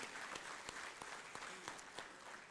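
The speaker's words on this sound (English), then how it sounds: "I want us to clap for the panelists for a job well done" Audience at a renewable energy conference clapping for panelists, steady soft applause from a distance with scattered sharper individual claps throughout.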